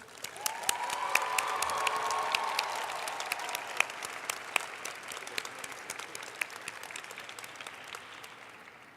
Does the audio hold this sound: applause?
yes